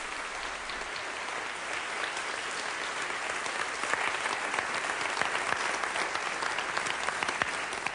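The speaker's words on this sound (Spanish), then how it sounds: "deberían aplaudir porque se lo merece" Applause from a lecture audience fills the room, a steady wash of many hands clapping that holds evenly for about eight seconds.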